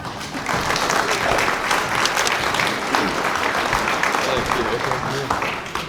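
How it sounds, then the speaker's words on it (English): An audience at a closing event breaks into sustained applause, dense close clapping from many hands holding steady for several seconds before tapering slightly. "A round of applause."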